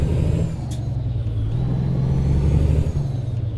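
Cummins ISX 500 hp diesel engine in a Volvo VT 880 truck in American Truck Simulator, a steady loud low rumble and drone throughout with no talk.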